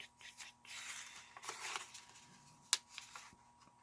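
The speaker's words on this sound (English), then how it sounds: "I'm going to cut it down" Scissors snip through paper while an envelope is trimmed, giving a few soft, close cuts followed by one sharp click, quiet and with no talk.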